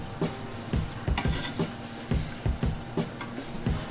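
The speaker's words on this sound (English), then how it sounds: "we'll go ahead and stir that in, and we're going to let it simmer" Wooden spoon stirring a thick simmering blue cheese pasta sauce with oregano in a pot, rhythmic scraping strokes repeating about every half second over a soft steady sizzle, close and clear with no talking.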